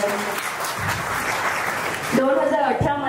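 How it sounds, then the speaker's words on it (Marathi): An audience at an academy's student felicitation ceremony claps heartily for an honoured guest, a full, steady round of applause that continues under a speaker's amplified voice in the last second. "सरांसाठी एकदा जोरदार टाळ्या होऊन द्या"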